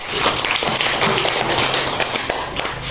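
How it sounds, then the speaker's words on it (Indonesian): Classroom of students clapping for a classmate called up to help the teacher, a brisk burst of close, sharp applause lasting a few seconds with no talking over it. "Tepuk tangan dulu untuk Fadil."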